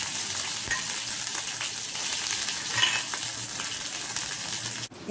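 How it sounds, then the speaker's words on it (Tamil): Mustard seeds splutter in hot oil for tempering, giving a loud, dense crackle of close pops and sizzling that runs steadily throughout, ending in a brief clatter. "கடுகு நம்மளுக்கு வந்து நல்லா பொரிஞ்சிச்சு"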